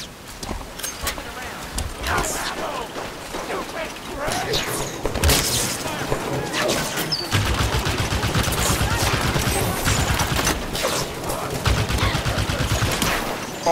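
Turret gunfire in the video game Halo 5: Guardians during a mission, dense rapid shots and booms rolling almost continuously over a busy battle soundscape, with voices calling out amid the fire.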